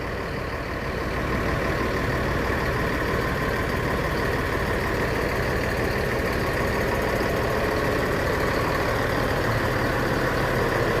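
Rear-mounted engine of an Adhi Prima Jetbus 3 coach idling at a bus terminal, a steady loud diesel rumble with a faint knocking texture, continuous with no talking.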